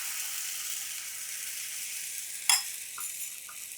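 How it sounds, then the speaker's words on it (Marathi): Steady hiss of batter sizzling on a hot griddle, with a sharp scrape or clink partway through and a couple of softer taps after. "तवा पण छान तापला आहे आता हे पळीभर पीठ तव्याच्या मधोमध"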